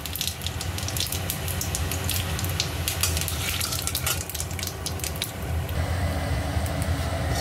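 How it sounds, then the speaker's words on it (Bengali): Panch phoron five-spice and dried red chillies frying in hot oil for a tamarind achar, a loud, close, crackling sizzle with rapid popping spits that eases slightly toward the end, no voices. "তেলটা গরম হয়ে গেছে, এর মধ্যে 5 ফোড়ন আর শুকনো লঙ্কা দিয়ে দিলাম।"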